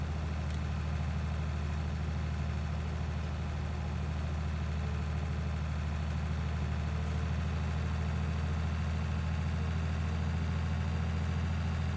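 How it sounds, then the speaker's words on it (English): Tractor engine driving in Farming Simulator 19, a steady low droning rumble with a constant hum that holds unchanged throughout, with no talk. "This tractor turn around here and head back to the farm."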